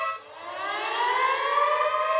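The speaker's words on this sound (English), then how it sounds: "you would hear the alarm, everything dead, you hear the alarm going" A Magik Little 7 machine's fault alarm wails continuously like a rising siren tone, steady and fairly loud, sustained for a couple of seconds with no talking.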